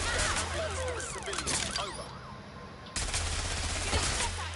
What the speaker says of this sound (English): Now this is lethal because it's a nail gun.